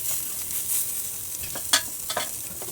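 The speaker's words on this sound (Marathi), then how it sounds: "असं छान भाजून घ्यायचं आहे बारीक गॅसवर पलटून पलटून भाजून घ्यायचं आहे" Buttered pav bread toasting on a pan over low flame, a steady close sizzle with a few crisp clicks as the pieces are turned.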